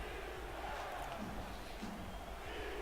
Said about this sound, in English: Sioux Falls crowd on their feet, making noise here on 3rd down and 3